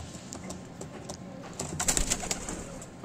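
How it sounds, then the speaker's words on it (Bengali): Andhra madrasi pigeons in a loft, cooing and shifting nearby, with a few short louder bursts toward the end and no talk. "দেখুন সব ফিট পায়রা, কোনো আনফিট পায়রা নেই।"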